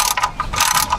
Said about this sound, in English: So I'm going to cap it off and tighten that bolt back down.